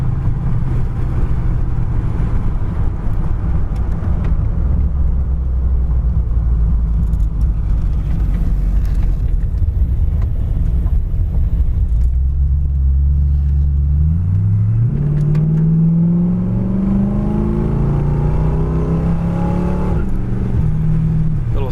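1936 Ford five-window coupe street rod with a 4-barrel carburetor accelerating hard, a loud, close, rumbling engine that climbs in pitch, drops on a downshift and rises again as it gathers speed.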